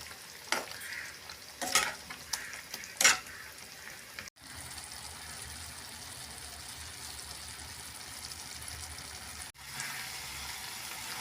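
A spoon scrapes and stirs through sliced raw banana with turmeric in a pan a few times, followed by a steady soft sizzle of frying.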